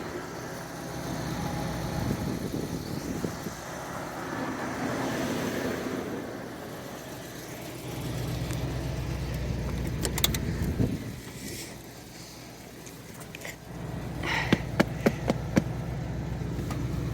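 A 1978 Lincoln Continental sedan's 7.5L 460 V8 idles after a cold start, a steady low rumble running throughout with a shift in tone midway and a few light clicks and jingles near the end.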